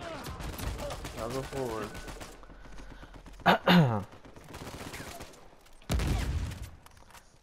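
Gunfire in an Uncharted 4 multiplayer match: sharp rattling bursts of shots with loud close cracks and game effects, mixed under someone talking.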